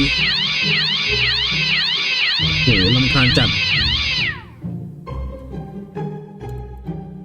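A creature in the Minecraft Crazy Craft mod lets out rapid, overlapping cat meows and caterwauls, loud and continuous for several seconds before stopping abruptly. A voice speaks afterward over light game noises.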